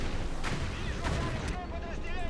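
Mortar and long-range artillery fire in a Blitzkrieg II match comes as dense, continuous booming and crackling blasts that fill the whole moment with no break.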